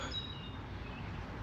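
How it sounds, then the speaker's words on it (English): Faint high bird chirps and tweets over a steady woodland ambience, with a low background rumble and no talking. "you'll hear the birds tweeting away"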